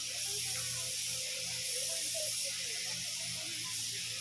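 Spray gun applying clear coat over a retouched front bumper on a Toyota Wigo: a soft, steady airy hiss running throughout at moderate distance, with faint background noise.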